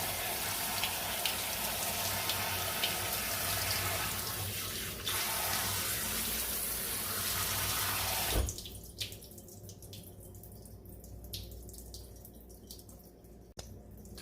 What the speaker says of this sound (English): I rinsed it out long enough that it doesn't stink anymore